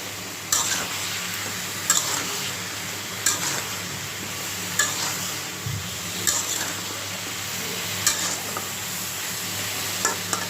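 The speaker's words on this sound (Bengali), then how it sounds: "বেগুন আর আলুটা দিয়ে নিলাম ভালো করে কষিয়ে নেব" Eggplant and potato sautéing in a pan for a Bengali fish curry: a steady, moderately loud sizzle with periodic scraping stir strokes every second or so, no talking.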